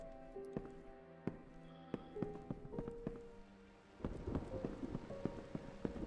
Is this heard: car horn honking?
no